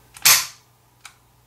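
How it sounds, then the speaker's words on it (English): A single sharp, close mechanical click from the trigger of an empty striker-fired USFA Zip Gun .22 LR pistol, followed by a fainter second click about a second later. "since it is empty and it is striker fired, you know, pull the trigger"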